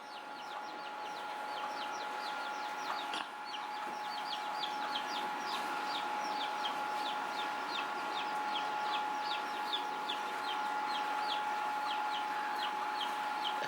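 Chickens outdoors clucking steadily while being fed bread, a rapid repeated chorus of close clucks over a constant background hum.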